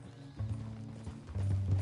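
A horse's hooves clip-clop at a walking pace in Red Dead Redemption 2, a steady rhythmic thudding set under a low ambient rumble, with no voice.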